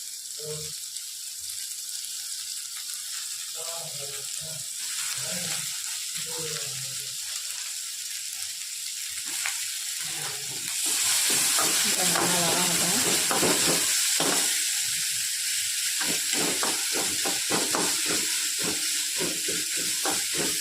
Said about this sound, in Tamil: ஆனியன் வந்து நல்லா கோல்டன் ப்ரௌனாக மாறணும் அது வரைக்கும் நல்லா வந்து ஃப்ரை பண்ணிக்கிட்டே இருக்கலாம்